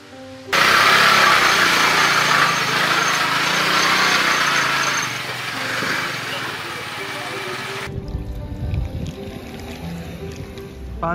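A small rented scooter engine in Manali runs loud and close with a steady buzzing drone for several seconds, then drops to a rougher, quieter rumble.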